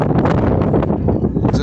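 Wind buffets the microphone on the open deck of the MV Alfred ferry at Brodick, Isle of Arran, a loud continuous roar that fills the whole clip.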